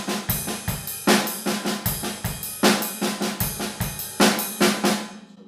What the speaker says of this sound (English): moving the bass drum around in the bar